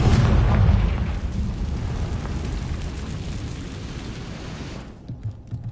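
A Confringo spell explosion in Hogwarts Legacy: a loud, deep boom that rumbles and fades over several seconds before cutting off.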